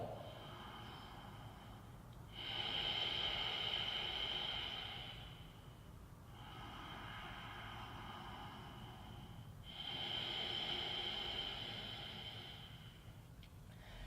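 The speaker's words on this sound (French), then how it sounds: "on va instaurer la respiration Ujjayi. Une respiration bien profonde." Deep Ujjayi yoga breathing, slow rasping throat breaths close up, each inhale and exhale stretching several seconds in a calm steady rhythm, with no talk.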